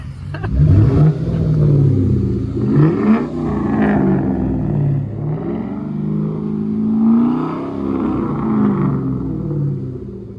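A hot-rod Lincoln's engine revs close up, a loud rumbling idle that rises and falls through several throttle blips over about ten seconds.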